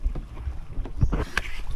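A kayak paddle dips and pulls through water near the microphone, with splashing strokes and some wind noise around a boat outing off Ao Nang, Krabi, Thailand.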